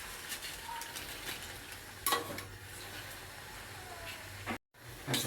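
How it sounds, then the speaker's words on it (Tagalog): Squid stirred in a frying pan, a steady sizzle with scraping strokes of the utensil, one sharper clack partway through, continuous and close. "Halo-haluin lang natin."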